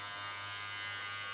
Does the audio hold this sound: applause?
no